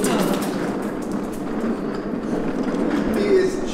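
A homemade ride-on train for dogs rumbles along steadily, a continuous rolling clatter close by that fills the whole stretch, with a voice heard faintly over it.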